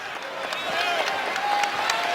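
Basketball crowd at Chapel Hill during North Carolina vs Davidson applauding and cheering, a steady wash of clapping and noise with an announcer talking over it.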